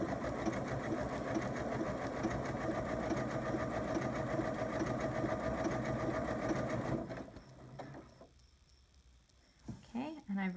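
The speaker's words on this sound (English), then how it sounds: "Now I'm just going to press my foot once so it takes the stitch back to the corner" A sewing machine stitches a quilt block, running in a steady, close mechanical whir for about seven seconds, then stopping, followed by quiet pauses and a few brief handling knocks.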